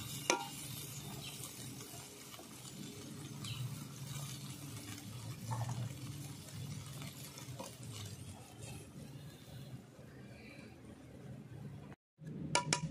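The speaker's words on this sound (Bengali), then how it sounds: "ভালো করে ঘিটা আমি মিলিয়ে নিচ্ছি" Ghee is stirred into a curry of beans and poppy seed paste in a pan. A steady, close scraping stir runs over a low sizzle, with a short silent gap near the end before more clatter.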